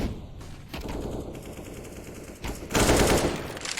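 Rapid MP9 submachine gun bursts in a Counter-Strike match on the Overpass map, with dense automatic fire running throughout and swelling into a louder, sustained burst near the end.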